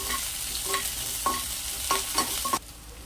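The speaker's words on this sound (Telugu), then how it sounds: "పచ్చిమిర్చి, ఉల్లిపాయలు వేసి వేపాలి 10 నిమిషాలు" Green chillies and onions fry in a pan, a steady sizzle broken by several scraping stirs of a spoon, close and alone, cutting off abruptly near the end.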